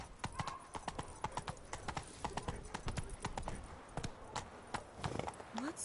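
Horse hooves clip-clopping at a steady gallop rhythm in The Witcher 3: Blood and Wine on PS4, with a brief whinny and someone speaking over the game sound.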